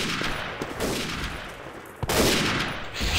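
A grenade detonates in Day of Defeat: Source amid ongoing battlefield gunfire, a sharp loud burst cutting through the dense crackle of shots near the middle of the mix.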